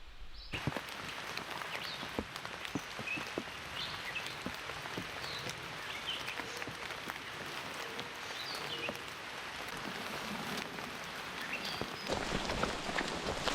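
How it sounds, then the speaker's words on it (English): Rain drumming steadily on a cheap Stansport Scout tent, a dense close patter of drops with occasional louder taps, continuous throughout with no voices. "rain has finally arrived"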